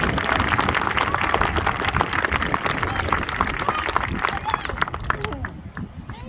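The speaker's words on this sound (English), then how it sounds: "So please give them a really warm round of applause" A crowd at a peace vigil for Palestine in Wellington breaks into warm applause, loud, dense clapping that fills the space and holds steady before thinning out near the end.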